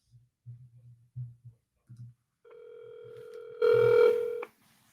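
A phone call being placed: a series of short low tones as it dials, then a steady sustained ringback tone that swells louder near the end before cutting off, with no talk.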